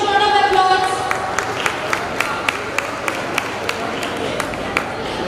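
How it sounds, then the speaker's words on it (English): Graduation ceremony crowd at a pharmacy college clapping as a group is welcomed on stage, steady scattered applause with crisp individual claps standing out, moderately close. "Give a huge round of applause."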